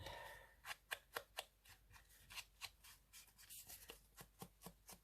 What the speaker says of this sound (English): I'm just going to snip these corners